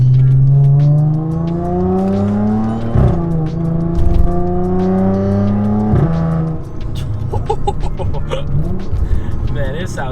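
An Audi S4 with a loud valved exhaust drives through a corner, its engine note climbing and dropping through gear changes, with a loud, close, rasping exhaust tone.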